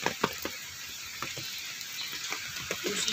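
Squid grilling over an outdoor fire, with a steady low sizzle broken by scattered sharp crackles and pops spread through the few seconds.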